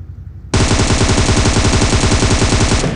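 A loud, sustained burst of rapid automatic gunfire in the PUBG video game, aimed at an open jeep, breaks in suddenly after a quiet half-second and keeps going almost to the end.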